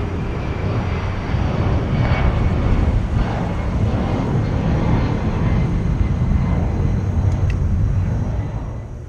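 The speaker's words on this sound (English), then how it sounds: "Like to go and watch the airplanes take off" Airplanes taking off near LAX, heard from the beach just west of the airport as a loud, sustained jet roar that swells and holds across the whole stretch, with no voices.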